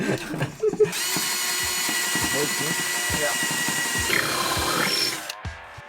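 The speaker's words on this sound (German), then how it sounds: "Ich bohre so gerne Löcher in Schiffe." A power drill runs steadily for several seconds, boring holes into a boat's hull, with a brief pause near the end and some faint talk at the start.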